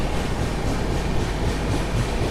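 On the main line, the Narayanadri SF Express runs with a dense, steady rumble heard close from within the coach, with no voices.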